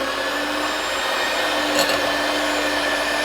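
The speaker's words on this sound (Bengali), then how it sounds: "আমি এটা হাত দিয়ে বিট করব না, আমি একটু মেশিন দিয়ে করব।" An electric hand mixer beats dhokla batter in a home kitchen. A steady, close, high-pitched whir runs unbroken throughout, with no talking.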